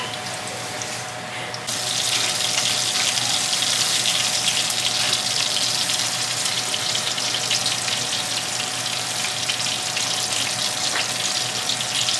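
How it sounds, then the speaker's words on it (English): Loud, continuous sizzling and crackling of drum fish frying in hot oil, starting suddenly after a quieter moment and holding steady throughout. "so we did this with the rest of the fish, and now it was time to fry"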